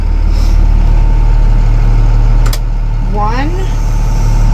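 A school bus diesel engine idles loudly and steadily close by, with a brief air hiss and a short squeak partway through.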